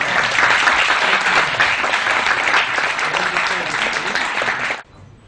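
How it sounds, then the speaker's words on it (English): A round of applause at an interfaith dialogue event, dense and steady clapping from a large audience that holds loud and even before stopping abruptly into near silence. "he deserves a round of applause"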